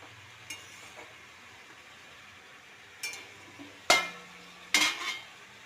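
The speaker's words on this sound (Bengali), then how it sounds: "দিয়ে ভালো করে নাড়াচাড়া করে নিলাম।" Pumpkin and spinach leaves being stirred in a pan: a faint low sizzle under a handful of separate scrapes and metallic clinks, the last two louder, with quiet gaps between them and no talking.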